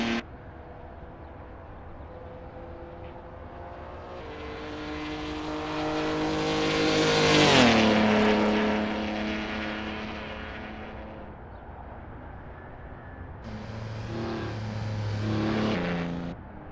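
Jaguar D-Type historic race car on the Monza circuit in Assetto Corsa, its engine note climbing and sweeping loudly past with a falling pitch, then fading before a second car rises briefly near the end.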